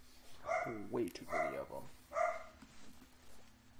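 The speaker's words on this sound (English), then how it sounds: "he just wants to fucking come in here so bad that he's fucking barking his head off" Dog in Minecraft barking in three short bursts, close and fairly loud, with someone talking briefly among the barks.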